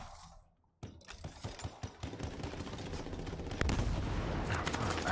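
Machine gun fire in the video game Anthem sounds as dense, continuous rapid bursts that build into a constant loud rattle after a short quiet start, with heavy low-end thumps mixed in.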